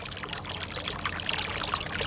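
Water splashing steadily from the return pipe of a running swimming pool filter pump, a continuous close trickling and pouring, alone without talk.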